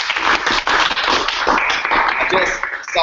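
Close, loud clapping from a gathered audience at an informational event, quick sharp hand claps packed together in a busy burst with voices mixed in.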